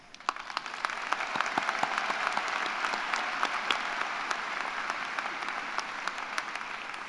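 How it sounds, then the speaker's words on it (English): Audience applause for award winners at an engineering college undergraduate celebration, sustained clapping from a large crowd with distinct sharp claps standing out, rising quickly and holding steady. "let's give another round of applause for our award winners"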